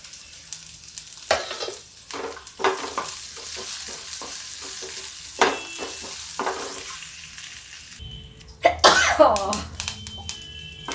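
Green chilli and onion sizzle in a hot tadka for arhar dal, a light steady frying hiss broken by spoon stirs and scrapes, then a louder burst of sizzling near the end, with a cough and throat clearing.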